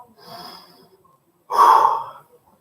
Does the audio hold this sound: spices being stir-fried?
no